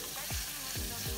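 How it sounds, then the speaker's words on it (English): Beef and onions frying in a pot for pilau, a dense close sizzle running throughout with a few soft low thumps from stirring. "give the meat, the onions a few minutes to turn golden"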